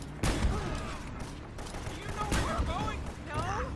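Gunfire from a weapon in the video game Uncharted, a dense burst of shots with mechanical clatter, loud and close, running under excited talk from players.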